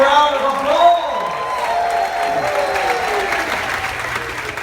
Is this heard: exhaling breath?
no